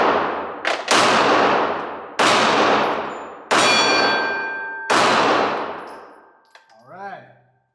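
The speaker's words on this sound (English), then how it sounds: "Do some shooting." Five sharp, loud pistol shots from a Glock 43X fired at an even pace, each with a bright ringing decay, followed by a lighter metallic clatter at the end.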